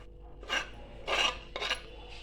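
A spoon mixes sweet corn chaat ingredients in a bowl. Three separate rasping scrapes of moderate loudness come in an uneven rhythm, close by, with no talk over them.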